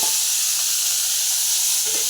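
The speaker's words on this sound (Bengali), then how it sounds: "এবার এঁচোড়গুলোকে আমি ভালো করে ভেজে নেব" Raw jackfruit pieces frying in hot oil in a wok, giving a steady bright sizzle throughout with a slight stirring scrape near the end, close and fairly loud with no talking.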